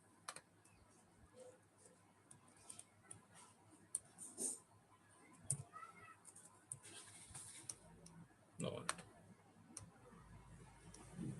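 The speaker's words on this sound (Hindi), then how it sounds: "इसमें कभी कभी ऐसा होता है, हिंदी टाइप होनी शुरू हो जाती है।" Faint, scattered keystrokes on a computer keyboard come in irregular bursts with pauses, soft and close in a quiet room.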